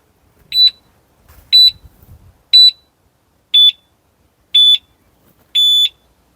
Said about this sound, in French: ça va émettre un premier signal sonore pour dire attention